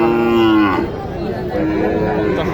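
A Sahiwal cow moos loudly and close by at a cattle market, then a second fainter moo follows over a murmur of background noise.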